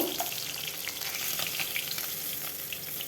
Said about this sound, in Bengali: এইভাবে উল্টে পাল্টে আমি ভেজে নেবো দেখুন মাছটা ভাজা হয়ে গেছে